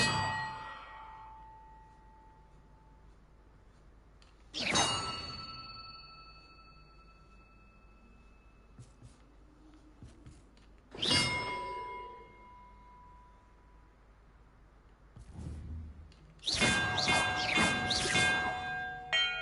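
Bells in the video game Hogwarts Legacy ring out one at a time in a bell-order puzzle, four separate clanging strikes spaced several seconds apart, each with a long shimmering decay, the last a cluster of overlapping chimes.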